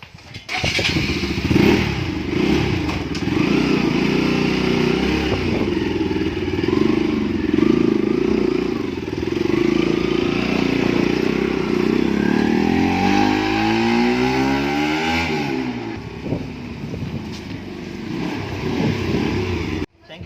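A motorcycle engine, running again after its dead battery was recharged at home, idles and revs loudly nearby with a steady rumble and a rising, falling pitch sweep partway through, continuing until an abrupt stop.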